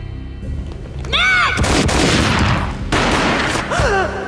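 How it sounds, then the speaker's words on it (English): Gunfire in the Max Payne video game: loud booming shots in a dense burst, with swooping tonal game effects rising and falling around them. "A gunshot boomed and she fell down in slow motion"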